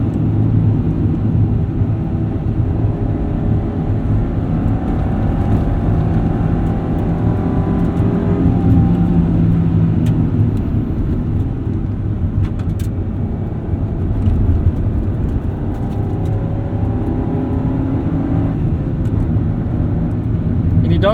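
A 1995 EJ Honda Civic Si engine hums and rises steadily while driving, with shifting revs over constant road and wind noise, loud and close throughout.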